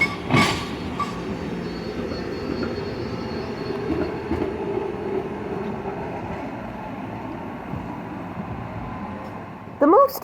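A SEPTA trolley rumbles past steadily at close range where the trolley line crosses a freight railroad, wheels grinding on the rails, with a sharp metallic squeal rising near the end.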